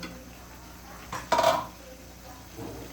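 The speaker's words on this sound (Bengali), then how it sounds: "এর মধ্যে আমি ভাজা ফুলকপি আলু সিম দিয়ে দিলাম" Fried cauliflower, potato and flat beans tipped into a pan of cooked spices and stirred, a quiet background hiss broken by one brief clatter of utensil against pan.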